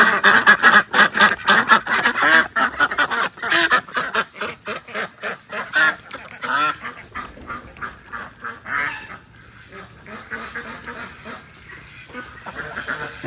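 A small flock of eight Pekin ducks and two native ducks quacks in rapid, overlapping bursts, loud and close at first, then thinning to scattered calls.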